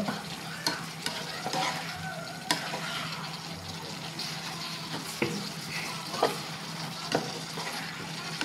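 Pork pigado is stirred in a frying pan over a constant sizzle. Sharp spoon scrapes and clacks against the pan come at an irregular pace, close up and with no voices.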